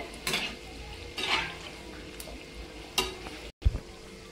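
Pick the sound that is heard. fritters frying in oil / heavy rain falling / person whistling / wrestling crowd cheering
fritters frying in oil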